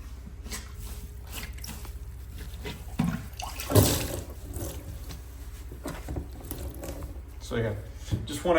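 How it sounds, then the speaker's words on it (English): A sponge soaks and squeezes water out of a wall-hung toilet tank, giving soft intermittent squishing and dripping sounds close by, with a few louder wet splashes and a voice in the background. "just want to keep soaking the water out of the tank until it's all out"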